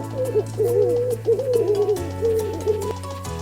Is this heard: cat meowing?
no